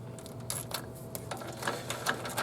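Rapid clicking ratchet of a socket wrench turning the belt tensioner bolt on a Nissan Frontier, a quick series of close metallic ticks.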